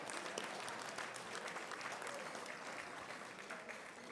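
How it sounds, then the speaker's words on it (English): At an awards ceremony, the seated audience applauds the event sponsors with a steady, even wash of clapping from many hands, fairly distant and moderate in level for its full length. "let's have a round of applause for all of our sponsors"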